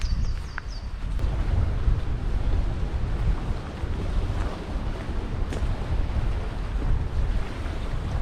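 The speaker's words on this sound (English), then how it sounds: "with the wind bearing down upon us straight from Buttermere" Strong wind blowing across Crummock Water straight from Buttermere, a loud continuous rushing roar with gusty buffeting against the microphone and a faint lapping of water beneath.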